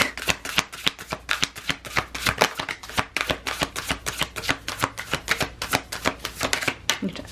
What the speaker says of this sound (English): I kept shuffling even when Spirit said that's it.